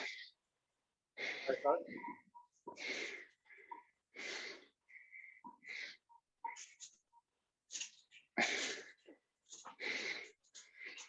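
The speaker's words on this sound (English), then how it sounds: "Just heavy breathing from here on out." Heavy, ragged breathing from a cyclist working hard on an indoor bike trainer during a Zwift climb, with loud gasping breaths coming in irregular bursts separated by short pauses, close to the microphone.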